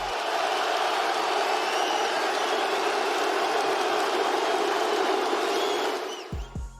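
Dense French crowd roaring after Charrière's knockout win at a UFC event, a loud sustained wall of cheering and shouting that holds steady, then drops off abruptly near the end into a few scattered thumps.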